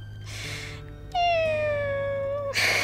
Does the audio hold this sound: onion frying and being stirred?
no